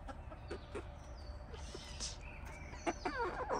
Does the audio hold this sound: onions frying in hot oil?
no